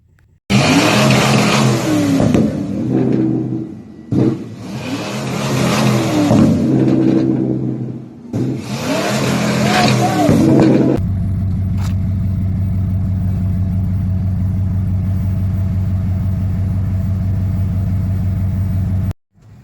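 A custom-built Ford F-150 pickup, Project Hellfire, gives three long, loud revs with short pauses between them, then drops into a steady, deep idle rumble.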